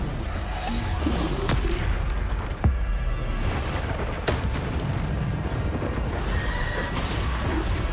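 Bombarda blasting spells go off in Hogwarts Legacy, several sharp booming impacts scattered through a dense, noisy battle soundscape with rumbling and crashing debris.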